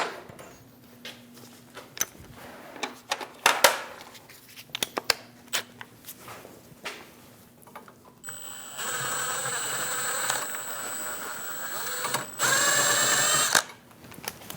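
Power tool removing the starter bolts on a 2001-2006 Chevrolet Silverado 2500 HD 8.1L V8, beginning with scattered clicks and clanks of handling. Then a sustained whirring run follows, with a louder, higher burst near the end.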